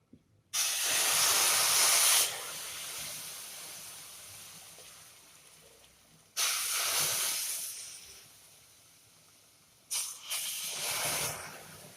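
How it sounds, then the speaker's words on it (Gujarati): Hot milk poured into semolina sheera (sooji halwa) with raisins hits the hot pan and sizzles loudly, in three bursts, the first and longest about two seconds, each fading to a softer simmer, with no talk. "અને ગરમ ગરમ દૂધ પડશે એટલે દ્રાક્ષ એની સાથે સરસ ફૂલી જશે. તો દૂધ આપણે એડ કરીશું."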